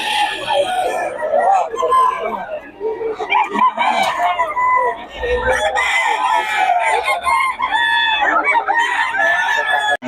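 Red Kelso and Sweater cross gamecocks crowing and clucking close by, several overlapping loud crows in quick succession with someone talking over them.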